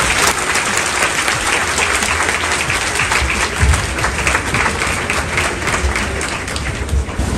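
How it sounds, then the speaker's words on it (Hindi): Loud, sustained applause from a large audience at a Khan Sir UPSC batch launch celebration, continuous dense clapping filling the whole stretch with faint crowd murmur underneath. "जोरदार तालियों के साथ"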